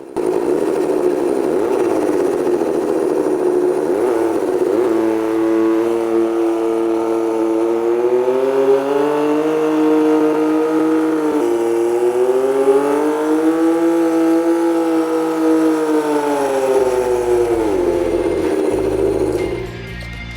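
A small rotary engine vehicle runs nearby with a steady buzzing drone, its pitch rising and falling gently as the revs shift, loud and continuous before it cuts off near the end.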